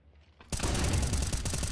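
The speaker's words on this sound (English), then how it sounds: "Quite the flashbang there." A flashbang grenade goes off in a competitive Rainbow Six match at European Pro League level, a sudden loud burst of broadband noise after near silence, then a sustained harsh ringing wash with faint crackles.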